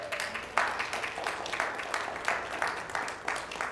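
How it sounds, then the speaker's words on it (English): A church congregation claps together during a service, dense rhythmic clapping in repeated bursts that fills the room. "Let's give God a hand clap."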